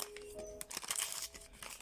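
A small paper surprise packet with green hearts is torn and opened, giving quick, close crinkling and rustling bursts for about two seconds, quiet and with no voice over them.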